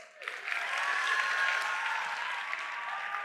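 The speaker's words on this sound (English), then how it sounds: "Everyone give Sarah a round of applause" A large crowd at a Steubenville South youth conference applauding a volunteer named Sarah, a swell of clapping that rises quickly and holds as a broad, steady wash, with a faint tonal hum running underneath.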